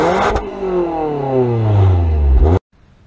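A 2016 Toyota Camry SE with the XSP package and dual exhaust revs hard, the engine note climbing in a smooth rising whine over a couple of seconds before cutting off sharply, loud and close.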